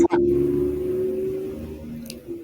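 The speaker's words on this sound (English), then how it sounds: "A car just passed by." A car passes by outdoors with a smooth engine whoosh that swells and fades over a couple of seconds, fairly loud and close, with no talk.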